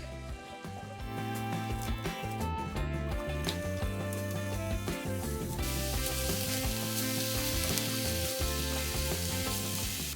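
Ground beef seasoned with adobo and sazón sizzles and crackles steadily in a pan, a close, continuous frying hiss with occasional stirring scrapes that swells louder toward the end.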